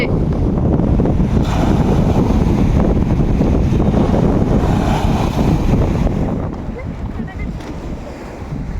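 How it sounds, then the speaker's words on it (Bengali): Sea waves surge and break steadily on a beach, a loud continuous wash of surf roaring under strong wind noise, easing slightly toward the end; no one speaks. "সমুদ্রের ঢেউ দেখো এখানে তো আরো বেশি ঢেউ হচ্ছে"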